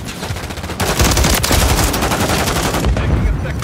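Rapid automatic gunfire from a Call of Duty Modern Warfare III Hardpoint multiplayer match, loud and nearly continuous bursts of shots filling the clip, with game sound effects around them.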